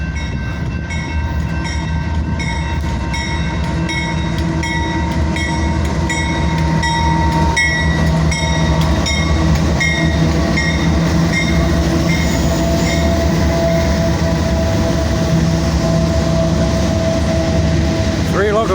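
A freight train hauled by three locomotives rolls past at a no-horn crossing, its steady loud rumble and wheel noise filling the air with sustained tonal hums throughout.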